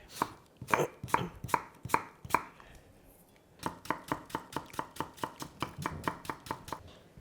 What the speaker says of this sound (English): So the apple will just slice through.